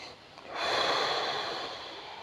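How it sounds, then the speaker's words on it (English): A person taking a deep breath and then blowing it out forcefully through the mouth, a single long, airy exhale that starts abruptly and tapers slowly, close and intimate, without speech. "Just breathing, like blowing it out."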